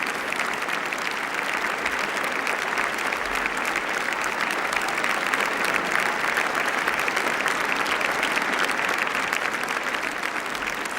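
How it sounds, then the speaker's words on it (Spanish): A theatre audience at the 2001 Prince of Asturias Awards ceremony applauds the Prince's entrance with a loud, dense, unbroken roar of clapping that holds evenly for over ten seconds. "Los invitados reavivan sus aplausos."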